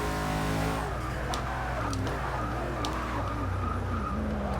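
A Gas Monkey Garage bagged Ford GT drives in Forza Motorsport 6, its engine droning steadily with rising and falling revs and brief tire squeals, heard alone without talk.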